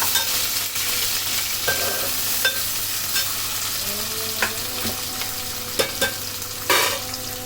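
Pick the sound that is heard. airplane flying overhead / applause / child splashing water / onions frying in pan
onions frying in pan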